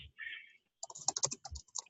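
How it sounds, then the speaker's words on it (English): Quick bursts of typing on a computer keyboard, close and fairly quiet, with rapid irregular key clicks after a short pause and no talking. "so now I'm typing them up real quick so I can respond to them."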